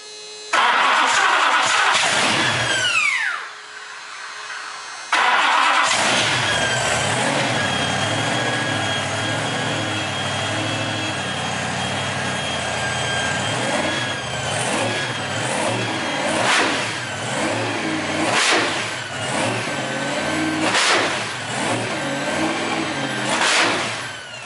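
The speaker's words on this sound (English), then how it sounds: "572 Ci Keith Black Hemi engines" Dual 572 cubic inch Keith Black Hemi engines, each making 1,500 horsepower, crank and fire with a loud roar, cut out briefly, then restart and run with repeated sharp revving blips close by.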